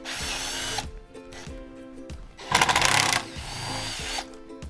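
A power driver whirs in repeated short bursts as it backs out the blade screws on a broken ceiling fan, close and steady, with one louder, harsher burst in the middle.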